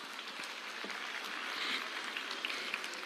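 Faint, steady clapping from a school audience at a senior secondary day event, a soft, even patter of many hands heard at a distance with no talk over it.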